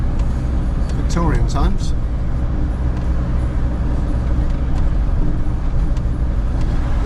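Cars and other road traffic pass along a street in an old English town near an M6 service station, a continuous rumble with a brief squealing brake, while someone talks over it.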